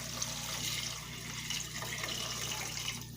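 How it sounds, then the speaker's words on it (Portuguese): Water pours into a cooking pot of soup mixture, a steady close gushing splash lasting a few seconds, with no voices. "Aí eu vou colocar água."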